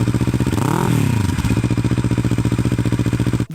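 A Kawasaki Ninja 650 parallel-twin engine with a 180-degree crank revs up and falls back once, then settles into a loud, close, lumpy rhythmic idle. The uneven beat has a tractor-like thud.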